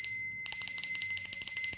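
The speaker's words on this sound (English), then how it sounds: "So I'm simply just going to ring my little bell" A small handheld bell rung during a sound-therapy session, bright sustained ringing tones that start sharply and keep shimmering with repeated light strikes, loud and close with no talking.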